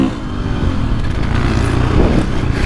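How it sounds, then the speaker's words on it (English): A 2024.5 KTM 450 Factory Edition dirt bike on a slippery off-road track, its engine droning steadily and loud up close with throttle rising and falling as it rolls off into engine braking. "this is where that engine braking, turning it down, it really frees the bike up"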